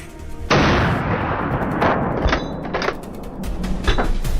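Gunfire rings out during a large-scale wild boar hunt in New South Wales forests, several loud sharp reports over a noisy outdoor background, some close and punchy, others echoing from around.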